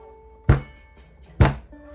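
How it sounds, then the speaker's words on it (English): Booming footsteps of a giant rendered as a sound effect: two heavy, deep thuds about a second apart, each with a short decaying rumble, over a faint steady tonal background. "he heard the sound of thundering footsteps"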